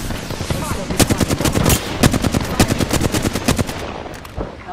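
Rapid automatic gunfire rattles from a video game firefight, loud and close, with dense bursts of shots running for several seconds before tapering off.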